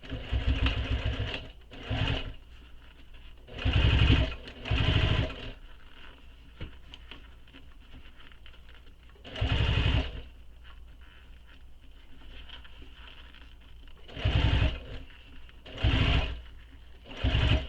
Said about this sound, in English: So now we're going to stitch this in place. All the way around.